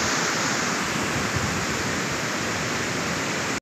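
Ocean waves washing onto a sea shore, a dense, constant roaring surf that stays loud and even throughout with no voices, then cuts off abruptly at the end.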